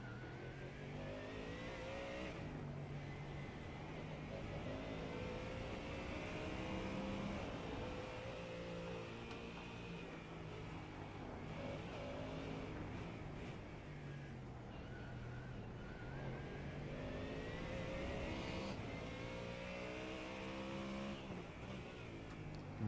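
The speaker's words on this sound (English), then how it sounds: "It looks like the Porsches are wheel hopping, coming out under power there." Porsche race cars racing on the Chicago street course, engines revving and shifting in repeated rising sweeps as cars accelerate out of corners, a dense continuous roar of several cars heard at a distance.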